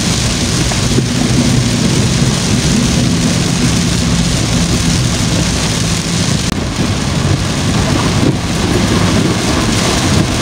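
Heavy, steady rain pours down in Tinoc, a dense, loud roar of water that stays constant throughout with no letup and no voices.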